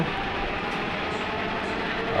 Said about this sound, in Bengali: উত্তরাগামী ট্রেনটি চলে যাচ্ছে